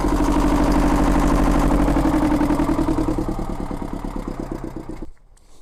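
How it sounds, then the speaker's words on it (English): A generator runs with a steady, loud, rhythmic engine chug that slowly weakens and then cuts out near the end, leaving near silence. "let's turn generator off"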